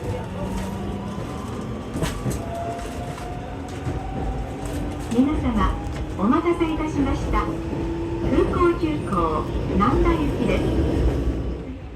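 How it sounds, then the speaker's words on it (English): A train at Kansai Airport in Japan bound for Namba Station, a steady rumble of rail cars with hums and whines rising and falling, while voices talk in the background throughout. "These trains on tracks 1 and 2 both go to Namba Station"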